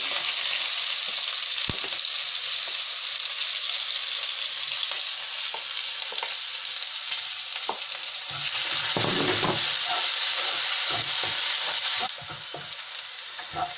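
Grated ginger, garlic and green chillies fry in hot oil with a loud, continuous sizzle, punctuated by the scrape and tap of stirring, before the hiss eases slightly toward the end.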